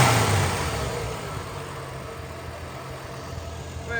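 A Holden HQ one tonner off the road for 29 years, carburettor freshly cleaned and missing its accelerator pump, runs with a steady low engine drone, louder at first before settling into an even idle.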